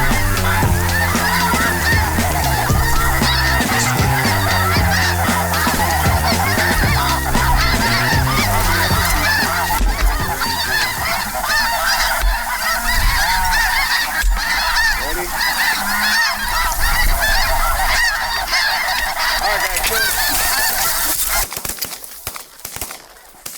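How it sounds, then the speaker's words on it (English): A large flock of snow geese honks continuously as it flies into a decoy spread on a waterfowl hunt, a dense, loud chorus of overlapping calls that fades out near the end. "seeing all those snow geese come into the decoy spread like that"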